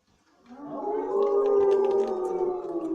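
A human voice imitates a long, wavering howl at the moon, as a dog or wolf would, while telling a story about a dog chasing shadows; a single sustained cry rises and holds for a few seconds, close and alone.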